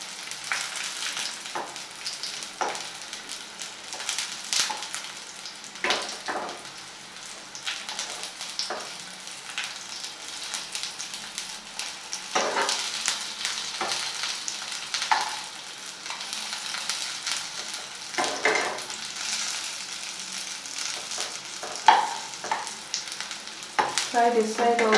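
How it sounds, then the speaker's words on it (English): Paneer cubes frying in a pan for Dhakai paneer, a steady soft sizzle with irregular scraping and stirring clicks throughout, close and moderately loud with no talking. "Fry this side also well for around 3 to 4 minutes, and then it will be ready to serve"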